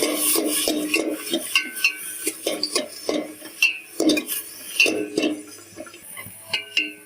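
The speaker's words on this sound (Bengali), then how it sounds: "পেঁয়াজ রসুনটাকে নাড়িয়ে নেব।" Onion and garlic are stirred in a pan, with a spoon scraping and clinking against the metal in repeated quick strokes over a light sizzle, close by and with no talking.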